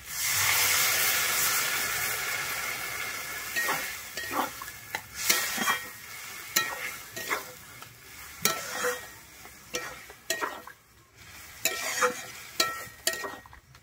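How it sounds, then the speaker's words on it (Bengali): Water poured into a pan of sautéed yardlong beans and potato hisses in a loud burst of steam, which settles into softer sizzling broken by repeated scraping and clinking of a stirring utensil against the pan. "এরপরে আমি এখানে জল দিয়ে দিচ্ছি।"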